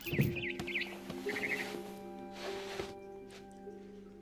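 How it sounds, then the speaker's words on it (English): Bird chirping drifts in outside a window in the video game What Remains of Edith Finch, with a few short tweeting bursts over a quiet tonal backdrop that then fade. "Then I heard chirping outside my window."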